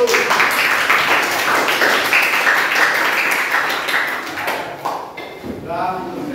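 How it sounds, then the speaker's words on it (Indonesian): Applause from a school audience for a presenter, with many hands clapping in a dense, steady patter that fades toward the end, mixed with some voices. "beri tepuk tangan untuk Bapak Datu"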